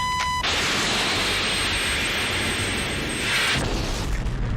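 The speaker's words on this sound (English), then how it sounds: "We've only got one missile left. I'm bringing him in closer, Merlin." A fighter jet fires a missile during a dogfight in the 1986 film Top Gun, a loud continuous roaring rush of noise that holds for about three seconds and then swells before fading, with no talk.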